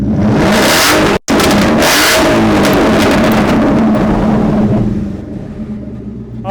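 Ford S550 Mustang GT V8 with a straight pipe exhaust revs loud and close, a raspy roar swelling and falling repeatedly with a brief cut near the start, then easing toward idle.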